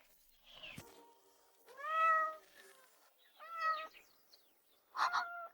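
Three separate cat meows, each drawn out and clear, spaced by short pauses in a quiet room; the last is brighter and more insistent.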